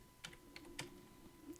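Brief typing on a computer keyboard: a few quick, close keystroke clicks in an irregular rhythm over a quiet steady hum.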